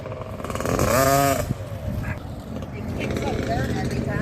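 Small swapped-in motor on an SYX build idling roughly and unevenly, with a brief rev swell near the start, heard close under a voice.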